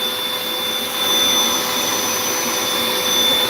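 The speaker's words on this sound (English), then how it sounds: "the vacuum works really good in certain instances" A vacuum cleaner sucks up insects with a loud, steady whining roar and a high-pitched tonal whine, continuous throughout with slight swells and no speech.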